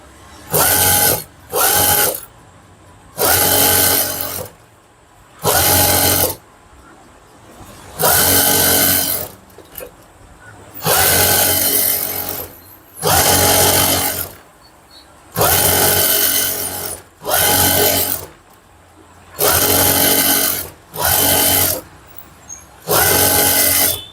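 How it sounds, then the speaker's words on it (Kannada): An electric sewing machine edge-stitches a blouse lining in repeated short bursts of loud motor whirring, separated by brief pauses as the fabric is guided. "ಸೊ ಈ ರೀತಿ ಎಡ್ಜ್ ಸ್ಟಿಚ್ ಹಾಕೊಳ್ಳಿ."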